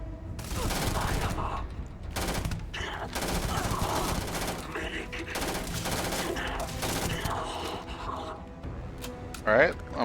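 Rapid bursts of gunfire from a weapon in the space game Starfield repeat across the whole stretch, loud and dense, with a person talking at times over the shots.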